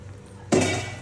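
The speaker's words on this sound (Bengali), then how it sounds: "এখন আমি চালগুলো ঢেলে দিচ্ছি, চালগুলো ফ্রাই করব।" Rice tipped into a hot pan of frying ginger and garlic, landing as one sudden loud clattering rush that settles into a steady sizzle, with no talk over it.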